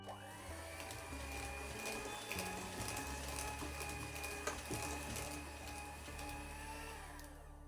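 An electric mixer stirs nastar cookie dough, giving a steady, close mechanical whir with a rattling, gear-like texture that runs unbroken for the whole stretch.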